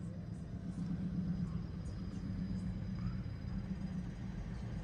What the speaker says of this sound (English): look at this Volkswagen. Why does that thing sound horrible?